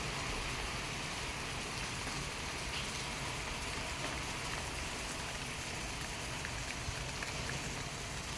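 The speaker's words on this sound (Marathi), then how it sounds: "झालं की नाही जोराचा पाऊस" Heavy monsoon rain pours steadily onto a waterlogged farm field in Maharashtra, a dense, unbroken roar of drops at an even level with no voices.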